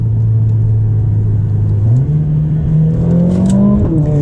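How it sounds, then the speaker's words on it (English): A turbocharged Mercedes CLA 45 AMG accelerates in 2nd gear, its engine note droning loud and steady from inside the cabin, then stepping up and climbing in pitch as revs rise. "You can really feel that turbocharged motor come in."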